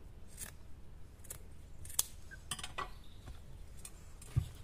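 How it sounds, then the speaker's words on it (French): Scissors snipping through material during a handmade string-light garland craft with burlap, several crisp separate snips with small metallic clicks, close up and fairly quiet, no speech. "je vais couper déjà celui-là"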